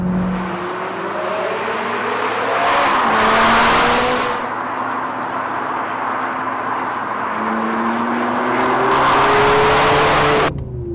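Ferrari F430 engine accelerating hard on the road, a loud rising and falling rev with quick gear changes and a surge of wind and tire noise, heard from inside the car.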